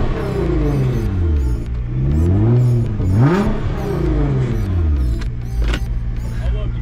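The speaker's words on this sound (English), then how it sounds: "Somebody wanted to see the rev or hear the rev of the GTR" A Nissan GT-R R35 engine revs up and down several times in a row, rising and falling in loud sweeps close by, with a short sharp burst near the end.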